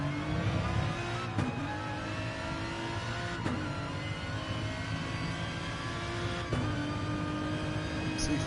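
Engine of an Aston Martin GT race car heard from onboard in a Le Mans endurance racing game, a steady high-pitched drone with sharp clicks at gear changes every couple of seconds, continuous and close.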